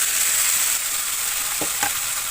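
Boiled potatoes and kidney beans tipped into a hot pan of sizzling tomato masala, a steady close frying hiss with a couple of brief stirring scrapes near the end.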